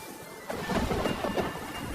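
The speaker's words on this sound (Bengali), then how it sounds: "বলতে না বলতেই ঝড় শুরু হয়ে গেল" A cartoon storm erupts in a village: a rumbling rush of thunder and wind-driven rain swells up after a quiet half-second and then roars on steadily.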